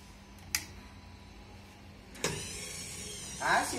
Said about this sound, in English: As you see, this motor is connected to the thread rod. When this thread rod rotates, this whole mechanism moves 3 inches forward.